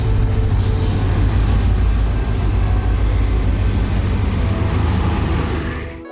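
The Sukkur Express pulls out of Drigh Road station in Pakistan, its wheels squealing steadily over a loud, continuous low rumble of rolling railcars, close by and unbroken for several seconds before easing off.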